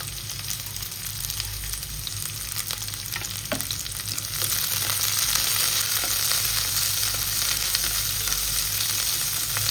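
Chopped onion fries steadily in a pan for chapati noodles, giving a continuous close hiss and crackle that grows slightly louder partway through, with a faint low hum beneath and no talking.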